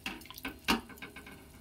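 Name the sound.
water being added to the cooking fish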